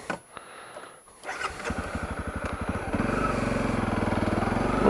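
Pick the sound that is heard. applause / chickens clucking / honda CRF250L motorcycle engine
honda CRF250L motorcycle engine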